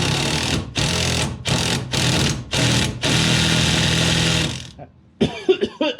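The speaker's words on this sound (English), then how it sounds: "I brought a 3/8 drive impact so we can get some ugga-duggas on her" A 3/8 drive impact wrench tightening a car's tie rod, a loud close series of rapid hammering bursts broken by short pauses, then a sharper clattering burst after a brief silence.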